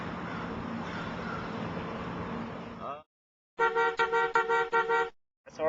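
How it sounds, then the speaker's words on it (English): A car horn honks in a city street, several short loud toots in quick succession following a stretch of steady traffic noise, then a final brief blast. "I'll put a car honking right there"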